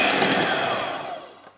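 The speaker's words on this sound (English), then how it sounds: "I'm going to swap now to the hand whisk and whisk it until it's really nice and fluffy" An electric hand whisk beats cake batter for low-protein fairy cakes, giving a loud, continuous motor whir that fades as it winds down near the end.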